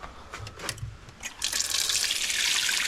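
A kitchen tap in a house on Siquijor in the Philippines is turned on and water gushes steadily into the sink, following a few faint knocks and drips.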